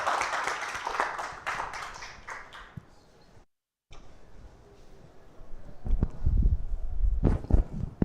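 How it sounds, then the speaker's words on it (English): A conference theater audience breaks into a short burst of clapping that fades into a quiet gap, followed by shuffling and handling noises nearby. "start this off with a round of applause to get him to get going"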